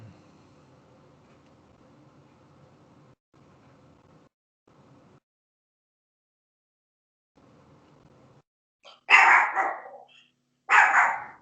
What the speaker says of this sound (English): Oh, here go the dogs.